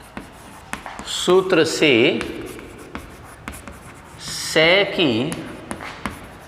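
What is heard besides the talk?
writing by hand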